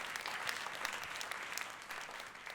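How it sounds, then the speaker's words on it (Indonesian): A church congregation claps together in sustained, even applause, a little distant and moderately quiet, with no speech over it. "Tepuk tangannya yang lebih meriah buat Tuhan kita"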